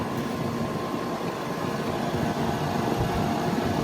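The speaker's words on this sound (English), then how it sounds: "it's a Gentech fan motor." Gentech fan motor running in a straight-cool air conditioner, a steady, fairly loud whirring hum with broadband airflow rush and no interruptions.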